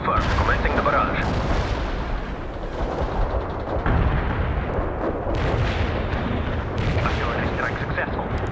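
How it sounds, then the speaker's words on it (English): An artillery barrage in the strategy game World in Conflict, with dense, continuous rumbling explosions and heavy blasts rolling together for several seconds, loud and close, as a radio voice talks over the barrage. "Artillery strike on the way."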